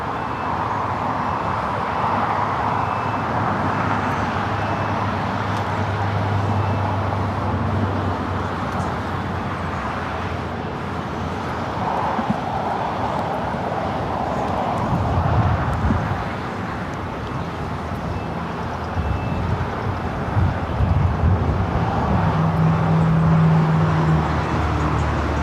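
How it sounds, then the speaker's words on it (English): JetBlue Airbus A321neo taking off at LAX, a steady distant low engine roar and rumble that builds and swells over about twenty-five seconds amid faint outdoor background noise. "First off, JetBlue Flight 687 heading to JFK. It's an A321neo next takeoff."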